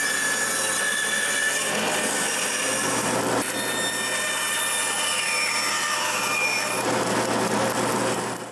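Bandsaw cutting around wooden candy bowls, a loud continuous grinding whine of the blade through wood that holds steady for several seconds before easing off at the end, no talk.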